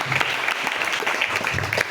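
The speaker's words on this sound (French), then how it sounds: "Acclamez pour le Seigneur Jésus." A church congregation claps steadily for the Lord Jesus, a dense, continuous round of applause from many hands throughout.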